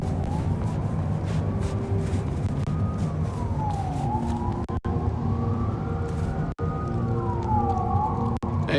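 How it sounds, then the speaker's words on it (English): Police sirens wail in Vampire: The Masquerade Bloodlines 2, rising and falling in slow, repeated sweeps over a dense city rumble, loud and close with a few brief cuts. "The sirens are wakeful, Detective."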